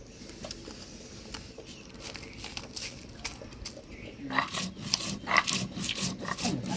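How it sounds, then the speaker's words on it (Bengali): Fried spices are ground by hand on a flat grinding stone in a Bengali village kitchen. Close, rhythmic rubbing and rasping strokes grow louder and busier toward the end. "এবার ভাজা মশলাটা বাইটে নিব"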